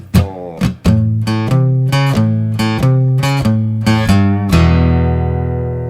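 Guitar picking out the last two bars of a rhythm, starting with a few sharp plucks and moving into a steady chugging low-string shuffle in even strokes, ending on one ringing held chord, loud and close.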